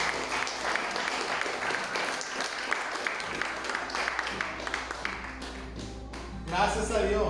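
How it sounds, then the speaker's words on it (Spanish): A congregation in a Spanish-speaking church breaks into loud, sustained applause with dense clapping, fading slightly and then swelling again near the end while a voice speaks over it. "Dales un fuerte aplauso."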